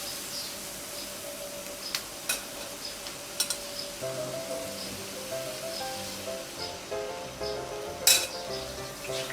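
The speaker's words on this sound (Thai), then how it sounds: "แล้วเดี๋ยวเราไปนาบกับกระทะกันนะคะ" Chicken breast sears quietly and steadily in a lidded pan over fairly low heat, with occasional sharp clinks of a utensil or lid against metal.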